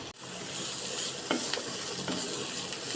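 Onions are stirred into pointed gourd (potol) frying in a pan. A close, continuous sizzle runs throughout, broken by a few scraping stirs.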